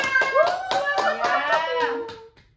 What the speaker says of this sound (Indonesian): Ya, beri tepuk tangan untuk Septi.